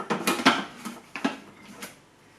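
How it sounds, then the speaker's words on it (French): A plastic lid is set back onto a Thermomix bowl without its measuring cup: a series of close, hard clacks and knocks in quick clusters, then a couple of lighter taps as it settles. "je remets le couvercle sans le gobelet doseur"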